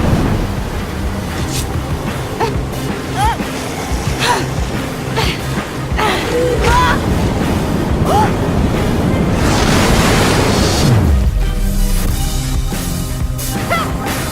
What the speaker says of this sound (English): Almost sounds like a waterfall!